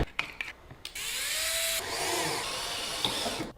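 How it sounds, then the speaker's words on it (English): Power drill spinning in reverse to back out a threaded part, a steady whirring drone of about a second after a few short clicks and taps, fairly close and with no talk. "Put this in a drill, reverse, and hopefully it'll bite and pull it out."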